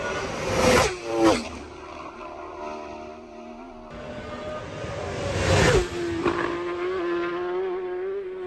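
High-revving racing motorcycle engines roar past at speed at the Isle of Man TT, two close passes early then another loud pass, with pitch sweeping down as each one goes by.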